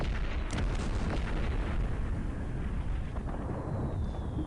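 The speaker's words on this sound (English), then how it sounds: "here's some horse artillery. I think that we're using K, right? You press that, the munition shows up, it's automatically activated. Bombs away." Horse artillery fires in the Civilization II Napoleon scenario, a loud rumbling cannon blast with a sharp boom near the start and a sustained low roar that carries through the whole clip, with no talking.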